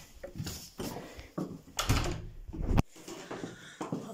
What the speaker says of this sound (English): excuse me while I open the door